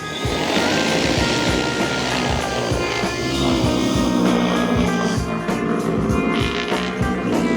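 A Talos T60X spray drone taking off, its propellers giving a loud sustained whirring roar with a pulsing beat that holds steady throughout, close by.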